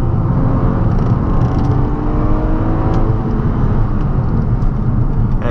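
A Volkswagen Golf 6 R with 270 hp and four-wheel drive pulls hard, its engine a loud, steady, close drone from inside the cabin that rises gradually with no talk over it.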